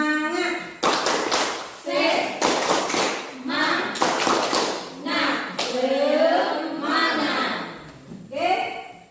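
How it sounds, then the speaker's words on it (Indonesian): A classroom group performs a tepuk semangat, a rhythmic clapping chant, with bursts of sharp claps and taps in a set pattern while voices chant along throughout. "Ya, tepuk semangat."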